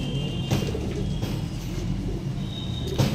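Pigeons kept by a pigeon fancier coo softly and repeatedly against a steady background hum, the low murmuring calls continuing without speech.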